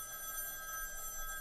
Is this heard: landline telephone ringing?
yes